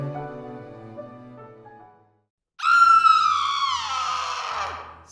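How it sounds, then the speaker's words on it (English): A sudden ear-piercing scream rings out through a castle, a high shrill female cry that bursts in after a pause and trails off, following a stretch of quieter tonal sound. "an ear-piercing scream was heard throughout the castle"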